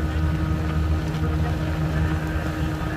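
A speedboat runs fast toward Maheshkhali island off Cox's Bazar, a loud, steady engine drone mixed with rushing water and wind noise, close and continuous throughout.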